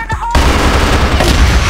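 Rapid, loud automatic gunfire bursts out in the CrossFire video game after a brief moment of quieter sound, a dense continuous volley close up.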